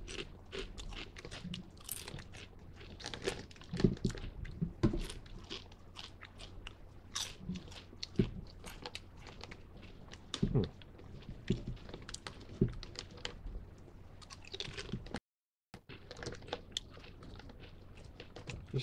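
Close-up crunching and chewing of Lay's flavored potato chips from China, with repeated crisp bites and crackly munching over nearly twenty seconds, one short silent gap near the end and no talking.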